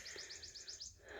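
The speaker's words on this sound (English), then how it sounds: "I can hear the bird is singing" Small birds singing at 8:30 in the morning around a cabin above a valley at Skyland resort, a rapid run of seven bright, repeated chirping notes, soft and somewhat distant against a quiet outdoor background.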